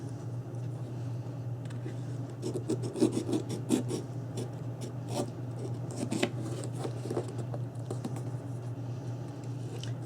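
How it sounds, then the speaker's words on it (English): A knife blade scores and rasps along cardboard while a camera album box is made, giving repeated short scratchy strokes close by over a steady low hum, with no talk. "Now we're going to have to cut that out with a knife."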